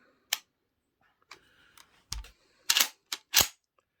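Metal clicks and clunks from an all-steel shotgun as a pin is pushed back into place during reassembly, a series of short, close mechanical snaps and taps with quiet gaps between them.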